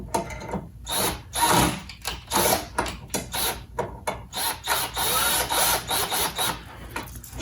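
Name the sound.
driving screws into a crossbar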